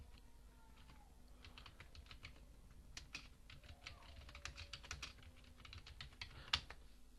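Someone types a Google search on a computer keyboard: soft, irregular bursts of key clicks, fairly faint and close, with brief pauses between runs of keystrokes.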